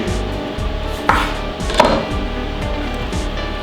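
A knife slicing boiled eggs in half on a board, with a few soft taps and cutting strokes at close range and no talk.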